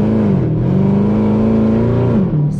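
Chevrolet Camaro ZL1/SS accelerating in a higher gear, a loud, close engine drone with a steady rising pitch, a brief dip around mid-clip, then pulling on before easing off.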